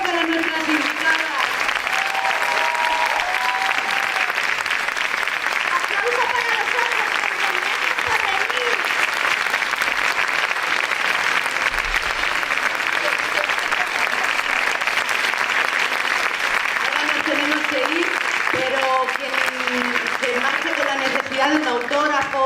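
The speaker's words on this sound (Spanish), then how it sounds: "Súper aplauso para nuestras invitadas" A crowd gives a long, loud ovation to guest voice actresses at a Disney dubbing event. Dense clapping carries on for over twenty seconds, and voices and cheers rise over it at the start and near the end.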